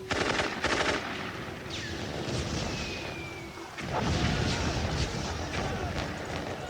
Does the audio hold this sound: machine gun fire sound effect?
yes